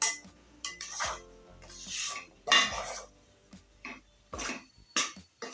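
A spoon scrapes and clinks against a pan as milk, cream, semolina and gram flour are stirred for barfi, in a run of uneven, close, rasping strokes separated by short pauses.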